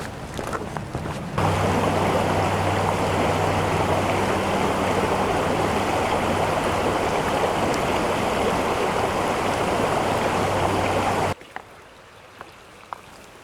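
Powerful rushing stream water roars through the Teufelsloch gorge, a loud, steady broadband torrent lasting about ten seconds before cutting abruptly to quiet outdoor ambience.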